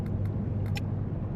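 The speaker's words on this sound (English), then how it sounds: "If you listen, I think the engine throttles up." A ship engine throttling up in Seafarer: The Ship Sim gives a steady low rumble that fills the short stretch, with a few faint clicks on top.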